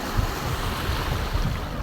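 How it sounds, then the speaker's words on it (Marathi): Steady rushing wash of surf on Girgaon Chowpatty beach, Mumbai, with low rumbling swells and constant wind noise buffeting the microphone. "मागे लाटा बघ येतात यार"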